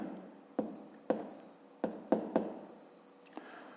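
A pen scratches on paper in a series of short, sharp strokes, close and quiet, while a math exercise is worked through, with no talk over it.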